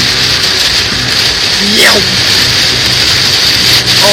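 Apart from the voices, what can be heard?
heavy rain during a thunderstorm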